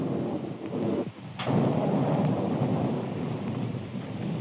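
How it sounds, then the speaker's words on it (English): A thunderstorm roars with heavy rain and a deep rumble of thunder, a sharp crack breaking through before the downpour swells. "Storm coming up."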